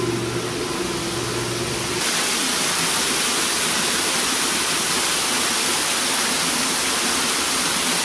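Waterfall inside an ecological museum with a jungle-like indoor display, heard as a steady, loud broadband rush of falling water that continues without a break, with a lower mechanical hum under it for the first two seconds.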